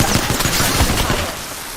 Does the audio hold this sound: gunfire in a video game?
yes